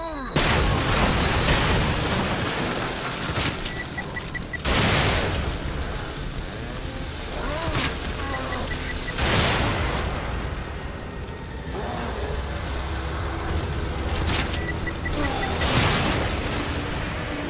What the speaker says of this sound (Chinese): 爆炸！